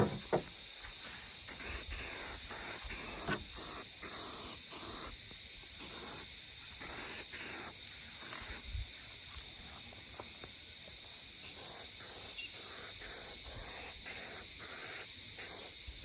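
Spray can spraying paint onto a curtain rod in a series of short hissing bursts, each a second or two long with brief pauses between, faint and close, no talk.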